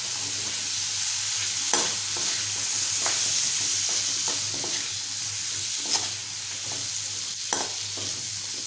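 Drumstick pods are stir-fried in spiced oil in a pan for a Malvani-style drumstick and potato bhaji. A constant loud sizzle runs throughout, broken by intermittent spatula scrapes and taps, with no voices.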